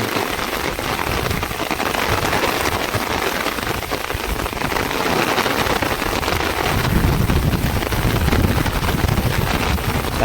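Steady rain pours down on a surface during traditional hook-and-line fishing, a dense continuous hiss with gusts of wind buffeting the microphone.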